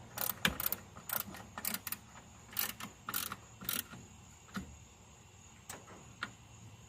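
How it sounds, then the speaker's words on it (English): A ratchet wrench tightening a bolt on a truck, with sharp clicking bursts of several quick strokes separated by pauses, close and clear in a quiet space. "now just tighten that one back up."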